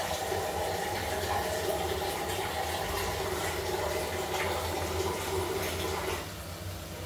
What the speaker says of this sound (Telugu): ఇప్పుడు మనకి మటన్ ఉడకడానికి దాదాపుగా 1 గ్లాసున్నర వాటర్ తీసుకున్నామండి